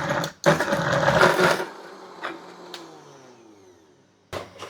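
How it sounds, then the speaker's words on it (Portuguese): A kitchen blender purees chicken and ricotta into a smooth paste, a close motor whir for about a second and a half before winding down, followed by a brief knock near the end. "E aí a gente volta para o liquidificador."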